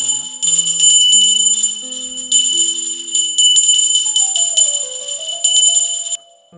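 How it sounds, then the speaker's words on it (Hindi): A small metal hand bell rings rapidly and continuously during a Hindu aarti ritual, a bright, close jangle in bursts with brief pauses, while a low drone or hum shifts pitch underneath. "घंटी बजाते हुए आप आरती करना।"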